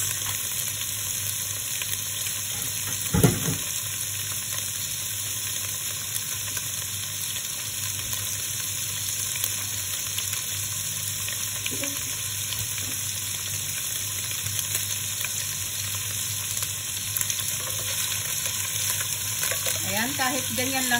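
Spare ribs fry in a pan with a steady, broad sizzle that holds for the whole stretch, joined by a sharp knock near the start and light scraping and stirring later on. No one speaks.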